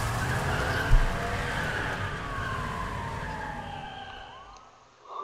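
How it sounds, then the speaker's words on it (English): A car drifting in the video game A Way Out, with a long, loud tire screech sliding downward in pitch over a rumbling engine, one thump near the start, then fading away. "was a good, sick drift"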